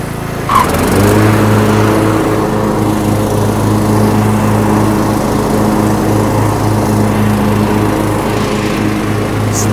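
A new Cub Cadet riding mower's engine runs steadily and loud close by, a constant droning hum after a brief start-up bump, with no talking over it.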